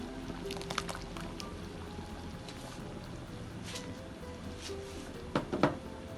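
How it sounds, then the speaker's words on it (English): Coconut milk poured into a pot of lentil curry as a steady, soft liquid stream over low background hum, with a few sharper splashy glugs near the end. "I'm going to add in the coconut milk."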